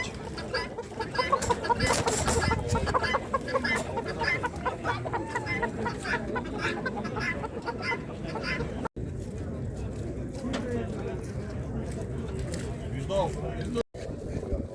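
Chickens cluck and squawk amid a busy outdoor crowd at a Lublin livestock market, with people talking nearby throughout.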